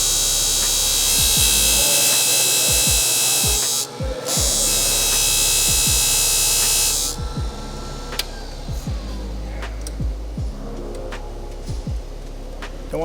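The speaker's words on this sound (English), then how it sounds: "Head on over to our trusty ring grinding tool." Piston ring grinding tool grinding a ring for a Porsche 930 engine: a loud, steady high-pitched whine that stops briefly and resumes, then gives way to quieter scraping and clicks.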